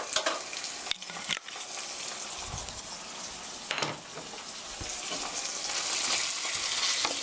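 Ground meat stir-fried in sesame oil in a pan for a mapo tofu rice bowl, giving a steady loud sizzle with scraping stir strokes that grows slightly stronger toward the end.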